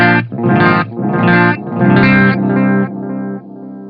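Electric guitar run through digital delay, comparing a Line 6 Helix with a Strymon Timeline tone, with a few loud picked chords close together and echoes trailing off into a fading tail.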